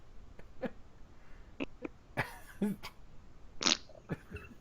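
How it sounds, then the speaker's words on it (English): A short, soft fart among several other faint bodily blips and small vocal noises, quiet and close against a low background. "The last one was an actual fart."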